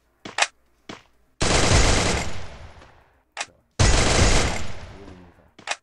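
Two long bursts of automatic gunfire from a mobile shooter game played on BlueStacks, each decaying over about two seconds, with short single shots between them. Close and loud, with no talking.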